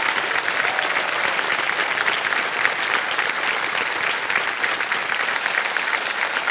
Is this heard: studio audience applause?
yes